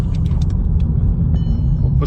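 A 2013 Skoda Octavia with a 1.6-litre diesel engine heard from inside the cabin under acceleration, giving a steady, loud low-frequency engine and road rumble that continues throughout with no talking.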